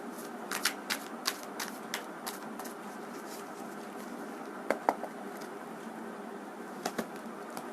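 Tarot cards are shuffled and drawn by hand, quick papery riffles and soft slaps in bursts, then a few sharper isolated flicks as cards are laid down, close and quiet with no talking.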